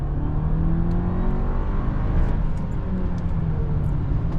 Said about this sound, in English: All right, let's give it some throttle.